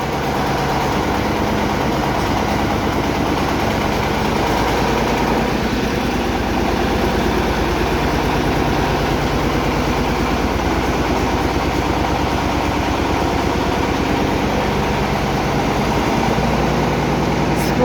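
A tractor running a rotary plough, a loud, steady, close diesel drone and rumble that continues without a break, with no clear talking over it.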